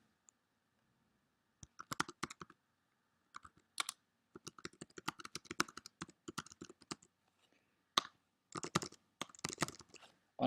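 A computer keyboard is typed on at close range while writing text into a wiki page, with irregular bursts of crisp clicking keystrokes separated by short pauses and no voices.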